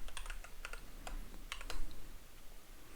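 Fingers tap out a master password on a computer keyboard in a few quick bursts of crisp, close clicks with short pauses between, over a faint background hum.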